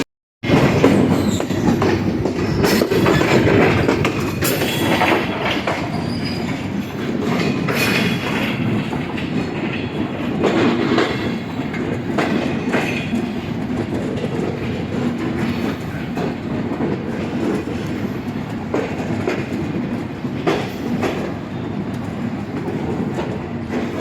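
Sundarban Express passenger train pulling into Jessore station, a loud, continuous rumble of wagons with rhythmic clickety-clack of wheels over rail joints and occasional brake squeals, close and steady throughout with no talking.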